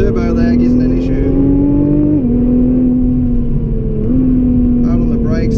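A 2017 Nissan GT-R pulls hard under acceleration on the Great Ocean Road, its engine note rising loud and steady with two brief dips at gear changes, while someone talks over it throughout.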